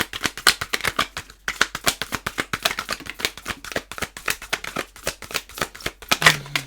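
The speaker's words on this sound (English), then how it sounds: "really good card stock is it's actually quite difficult to shuffle the way that I do with it" Thick, heavy tarot card stock being shuffled by hand, a long run of quick riffling, flicking strokes in steady bursts, close and fairly loud, with no talk.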